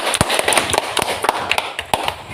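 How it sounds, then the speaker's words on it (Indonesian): A group of students applauds for Nathan in a classroom, giving a scattered, uneven run of sharp, close claps over about two seconds. "Tepuk tangan buat Nathan."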